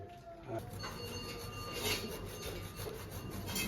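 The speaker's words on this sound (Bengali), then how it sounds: "খোয়া খিরটা গ্রেট করছে" Khoya, dried milk solids for kheer, is rubbed across a grater in a faint, continuous rasping scrape, with no talk.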